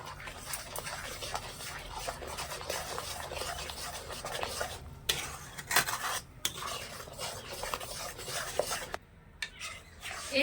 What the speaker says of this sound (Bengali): চালের গুঁড়ো দিয়ে একটু সমানে নাড়তে হবে না হলে পরে কি আবার দলা বেঁধে যাবে